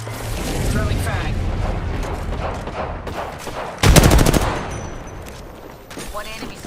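Gunfire in the battle royale game Apex Legends: dense, sustained rattling bursts over a constant background din, rising into a louder volley midway, with game voice lines layered on top.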